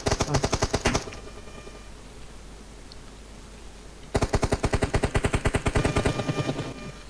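Rapid automatic gunfire from PUBG Mobile erupts in two long bursts of loud, evenly spaced shots separated by a few seconds of quieter background.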